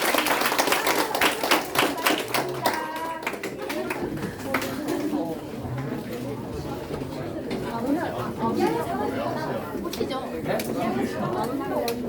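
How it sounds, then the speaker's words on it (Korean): An audience at a talk breaks into applause, a dense burst of clapping from many hands at first that thins into scattered claps under murmuring chatter and voices. "박수"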